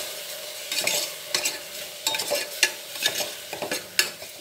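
Spices of chilli powder, turmeric and coriander powder stirred into tomatoes frying in a pan for tomato rice, with a steady soft sizzle broken by repeated scraping strokes of a spoon, close and moderately loud, no voices.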